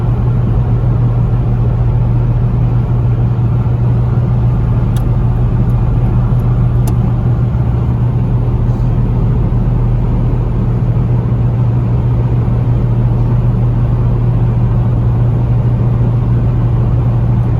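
A Renault 1.7 Flash S car engine holds a steady cruise at about 3500 rpm, a constant loud drone with road rumble and no talk.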